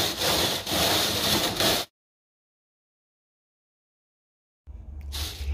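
Compost rubbed through a fine-mesh sieve makes a close, gritty scraping rasp in short strokes, stopping abruptly into silence for nearly three seconds before the scraping resumes.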